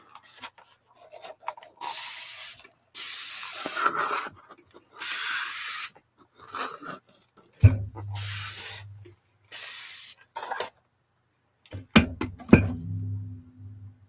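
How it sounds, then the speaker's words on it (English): Several short bursts of hissing spray from an aerosol can of gloss spray, separated by pauses, with some rubbing and a low hum near the end. "And then I'm going to spray it."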